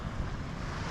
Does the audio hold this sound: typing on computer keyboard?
no